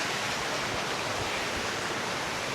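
A Bali waterfall rushes in a dense, steady roar of falling water, loud and continuous with no voices over it.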